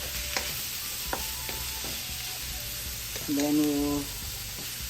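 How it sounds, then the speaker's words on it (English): Chopped onions hit a hot pan with a brief, bright sizzle that swells for under a second, after a few light clinks and a voice speaking nearby. "saute the onions for about 3 minutes"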